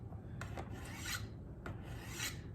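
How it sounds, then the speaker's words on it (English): A Victorinox Fibrox 8-inch fillet knife is drawn along brown sharpening rods in a few close, rasping strokes, each a dry scraping swipe with short pauses between. "on these brown rods, do one side until you raise a burr"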